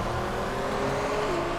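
A Polestar 1 fitted with a Chiron engine swap in Need for Speed Unbound cranks and turns over sluggishly, its steady engine drone rising slightly in pitch, loud and close with no talk.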